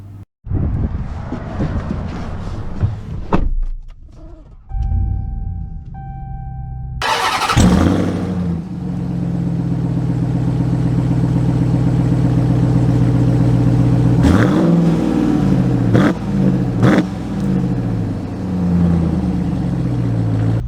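A 2022 Ram TRX pickup truck cranks and starts with a loud roar, then settles into a steady, rumbling idle and pulls away with revving that swells and dips, the engine sound close and continuous throughout.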